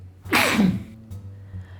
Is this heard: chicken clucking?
no